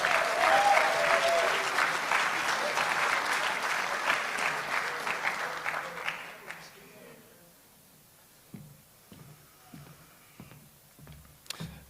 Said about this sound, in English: we need to give a round of applause to the head coach of the Vikings,